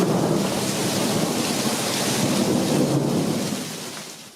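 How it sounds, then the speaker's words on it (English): Steady rain pours down with a broad, dense hiss during an afternoon monsoon thunderstorm in Christopher Creek, loud and continuous with a low rumble underneath, fading slightly at the end. "This is the sound of rain this afternoon in Christopher Creek."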